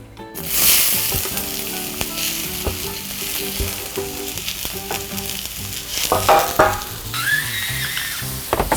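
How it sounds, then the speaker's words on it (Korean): Julienned vegetables stir-fry in a pan with a bright, steady sizzle and intermittent scraping and tossing sounds, close and without talk. "그 다음에 채소를 볶을 건데 한꺼번에 다 채 썰어서"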